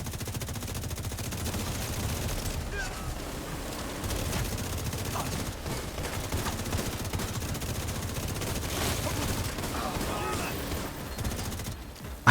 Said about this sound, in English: I didn't even realize there was a minigun up there.